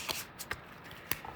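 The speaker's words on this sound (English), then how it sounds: "but I'm just shuffling a little bit more" A deck of playing cards is shuffled during a tabletop board game session: a few soft, quick riffling snaps and flutters, faint and close, spaced irregularly over a quiet background with no talking.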